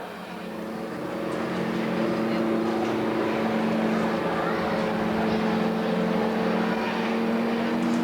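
Stock cars at Redwood Acres Raceway race down the back straightaway, a steady, continuous engine roar with droning harmonic tones that swells in the first second and holds loud throughout, heard from a distance across the track.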